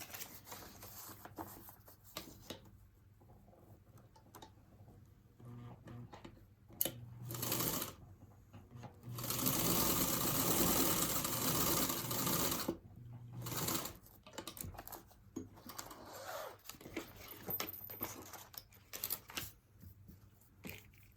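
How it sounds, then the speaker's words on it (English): A sewing machine stitches a quick seam in short bursts, with one longer, louder run in the middle, amid handling clicks and rustles close by. "That quick sew."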